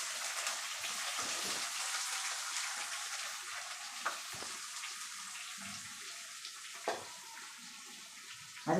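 Chopped onions dropped into hot oil for a hotel-style potato masala, a steady soft sizzle with occasional spoon scrapes and stirring knocks in the pan, moderately quiet and without voices.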